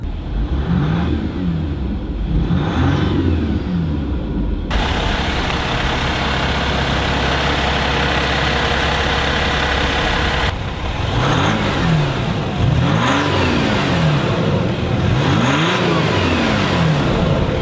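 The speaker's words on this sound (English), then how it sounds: "I love the way the diesel feels driving around. I love the sound of it." A 2021 Jeep Wrangler EcoDiesel engine rumbles nearby, revving up and down in repeated surges between stretches of steady driving drone.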